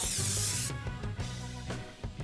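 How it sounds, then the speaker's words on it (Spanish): Black spray paint hisses onto small lipstick boxes in one brief, close burst at the start, then gives way to steady background music. "Pinta con spray negro dos cajas de lápiz labial y la caja con el borrador"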